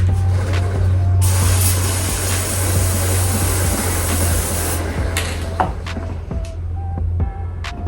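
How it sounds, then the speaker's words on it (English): Maxima chain guard sprayed from an aerosol can onto a dirt bike chain after washing, a steady loud hiss held for several seconds, with a low hum running underneath. "after I'm done cleaning my bikes, I always put chain guard on the chain. And I just use the Maxima stuff."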